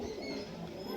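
A Malbai Lal Chameli pigeon, a Punjabi breed, gives a soft, low, continuous coo that lasts about a second and sounds close and quiet.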